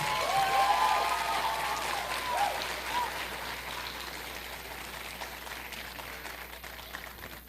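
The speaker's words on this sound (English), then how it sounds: "Please welcome our escorts with a hearty applause." Audience applause at a Cosmopolitan Club Miss Salem pageant and variety show, for the contestants' escorts. Dense, steady clapping fills the hall, loudest at the start and then thinning slightly while continuing throughout, with a faint tonal murmur early on.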